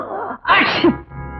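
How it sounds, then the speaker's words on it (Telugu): A man sneezes once in a film scene, a sharp, loud burst that quickly cuts off, between quieter stretches of background sound. "నిమిషానికి ఒక తుమ్ము తప్పును తుమ్ముతున్నారు నిన్నటి నుంచి"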